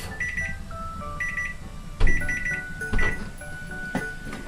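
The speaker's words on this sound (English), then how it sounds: "Timer just went off." A home kitchen timer goes off with rapid clusters of high electronic beeps repeating in a steady rhythm, while a few louder knocks and kitchen clatter sound in between.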